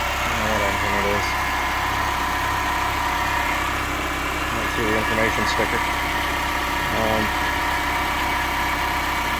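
A used car bought for about $500, engine of unknown type with a new radiator, idles with a steady low rumble throughout, while someone talks over it close by.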